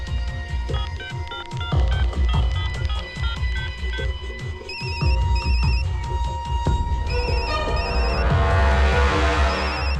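A phone rings with an incoming call during a tense film climax, its repeating electronic ringtone coming in short bursts over loud, busy background music and low rumbling.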